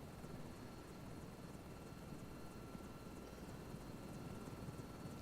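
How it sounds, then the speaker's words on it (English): Steady, unbroken aircraft engine drone from a Microsoft Flight Simulator 2024 flight as the plane starts rolling, a dense continuous roar with no pauses or voices. "Engines sound pretty good, I will say that."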